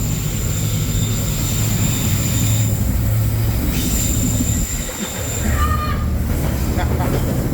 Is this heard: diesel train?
yes